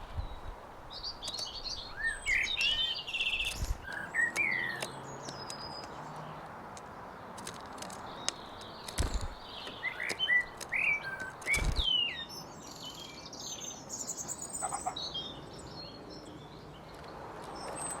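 Small garden birds, tits, a robin and the odd blackbird, call and twitter at a feeder, with repeated short chirps and tweets scattered across the clip over a steady outdoor hush and a few soft knocks.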